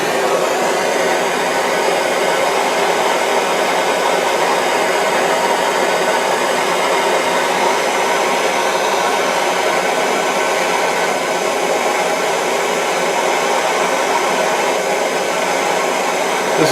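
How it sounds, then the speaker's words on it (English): A torch roars steadily and loudly while heating steel aircraft landing gear on a Taylorcraft for brazing, a continuous broadband hiss with no breaks and no talking. "it's going to take probably about 2 minutes to get the heat up and to get this brazed"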